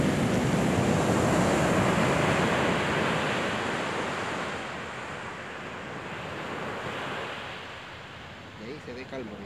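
Ocean surf at Talcahuano, Chile, a broad rushing wash of water that swells loudly, then gradually softens, with faint voices near the end.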